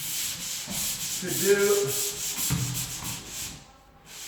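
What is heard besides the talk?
sanding by hand in a high area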